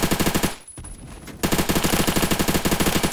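X95 SMG firing in the video game Phantom Forces: rapid, loud automatic gunfire in two sustained bursts separated by a brief pause, with no talking.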